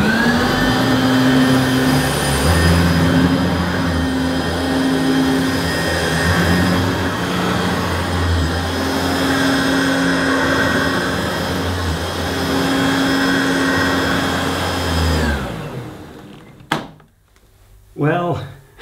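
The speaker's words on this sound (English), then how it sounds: "let's have a go first with this Hoover Turbo Power" A Hoover Turbo Power upright vacuum cleaner runs on a medium-pile carpet as a loud, steady motor roar and whine for about fifteen seconds, then it shuts off and a few knocks and handling sounds follow.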